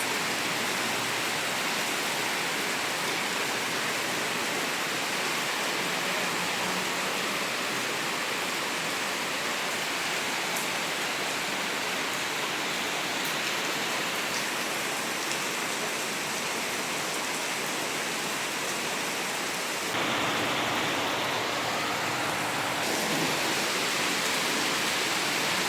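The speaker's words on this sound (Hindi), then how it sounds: "बहुत तेज़ बारिश हो रही है।" Heavy rain pours down in a dense, continuous roar, loud and unbroken throughout, with a slight shift in texture near the end.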